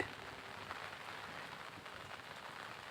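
Rain falls steadily on a terrace garden, an even, soft patter and wash of drops on leaves and surfaces, faint and continuous with no voices.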